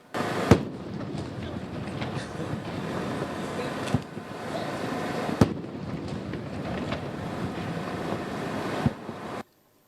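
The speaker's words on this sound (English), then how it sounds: "the swearing-in ceremony was approaching its conclusion, but not without the 21-gun salute" A 21-gun salute at a presidential inauguration ceremony in Nigeria, sharp distant cannon booms spaced a few seconds apart over a constant windy outdoor rumble.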